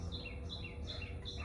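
Small bird chirps in quick high repeated notes, somewhat distant, over a steady low background hum.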